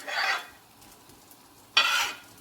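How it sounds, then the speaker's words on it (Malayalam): A spoon stirs diced elephant foot yam with turmeric powder and salt in a pot for a Kerala-style stir-fry, two short bursts of scraping separated by a quiet pause. "എന്നിട്ടിത് നന്നായി ഒന്ന് ഇളക്കി"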